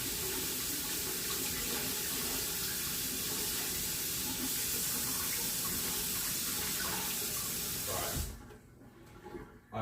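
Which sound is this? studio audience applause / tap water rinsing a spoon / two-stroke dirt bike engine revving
tap water rinsing a spoon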